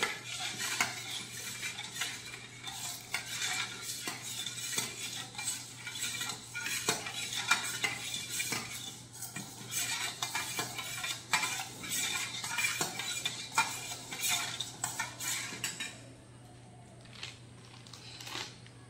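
Yogurt beaten with lukewarm milk in a bowl, continuous rapid scraping and clinking of a utensil against the bowl, fairly quiet and close, easing off near the end.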